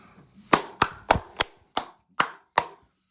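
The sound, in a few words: hand clapping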